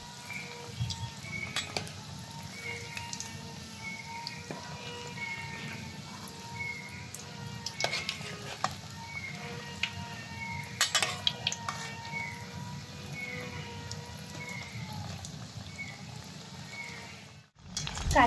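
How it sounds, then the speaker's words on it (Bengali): Flattened rice (chira) cutlets frying in oil over low heat, a soft steady sizzle with scattered clinks and scrapes of a utensil against the pan, fairly quiet throughout. "এবার কাটলেটটাকে হালকা আঁচে ভেজে নেব।"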